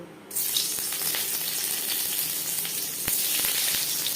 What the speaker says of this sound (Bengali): সবার প্রথমেই পনির ভেজে নেব